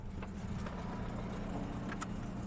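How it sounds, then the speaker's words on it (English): A car engine idles steadily after start-up trouble, a low continuous rumble with faint light rattles on top, close and even, with no talk. "It's idling nice now."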